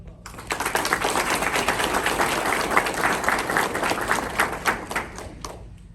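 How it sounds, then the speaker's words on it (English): Audience at a Huntsville correctional officer graduation applauding the graduating officers, a dense, sustained burst of clapping from a large crowd that swells and fades over several seconds. "Give them a round of applause."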